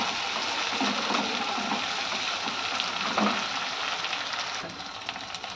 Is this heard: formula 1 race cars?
no